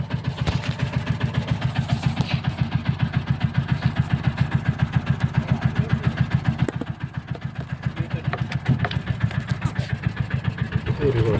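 An autorickshaw engine idles in reverse gear, its steady pulsing putter holding close and loud throughout, dipping briefly in level partway through.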